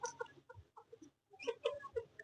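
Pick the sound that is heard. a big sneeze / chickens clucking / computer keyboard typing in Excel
chickens clucking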